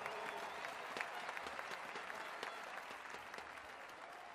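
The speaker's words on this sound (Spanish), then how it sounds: "dale el aplauso más fuerte al Rey de Gloria" A church congregation at a worship service claps steadily, a dense wash of applause from a crowd filling the room, with scattered louder claps and faint voices mixed in.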